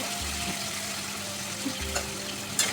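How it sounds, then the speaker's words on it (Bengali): Green chillies frying in oil with a soft, steady sizzle, interrupted by a low hum and a few faint clicks and small knocks close by. "কাঁচা লঙ্কা ভাজা হয়ে গেছে"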